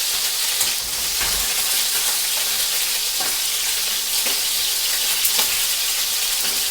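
Cooked rabbit pieces sizzling in a frying pan during paella preparation, a steady loud hiss and crackle of hot oil throughout with faint stirring clicks, no voices.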